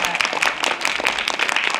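Crowd applause at a motivational speaking event in Rajasthan, dense continuous clapping from many hands filling the short stretch, moderately loud and fairly close.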